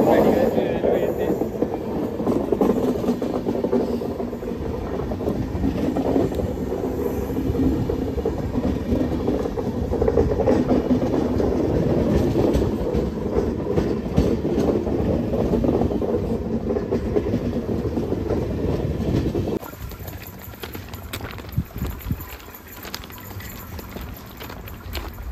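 A train rolls past on a railway track near a tunnel, a loud, sustained rumble with rhythmic clatter for about twenty seconds before it drops away, leaving quieter background noise with faint voices.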